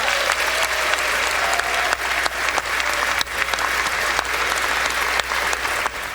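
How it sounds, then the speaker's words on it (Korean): Sustained, dense applause fills the US Congress chamber for a Capitol Police officer, loud and unbroken from start to finish with no talking over it. "옆에서 일어나라고 이렇게 축혀 세워서 박수가 끊임없이 이어졌습니다"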